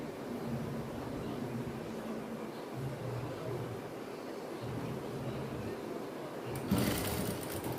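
A sewing machine stitches a folded edge of a silk skirt, a steady whirring drone running under the whole stretch, with a brief sharper knock near the end.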